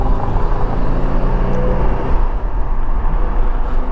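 A 1985 Porsche 928 S Euro engine pulling the car along with the windows lowered, giving a steady, loud, low drone with a dense rumble that holds evenly throughout, no voices.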